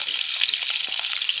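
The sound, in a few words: anchovies stir-frying in vegetable oil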